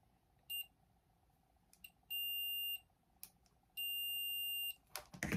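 A cheap AliExpress multimeter beeping during a continuity check: a few short chirps, then two sustained tones of over half a second each, fairly quiet in a still room, ending with a clatter.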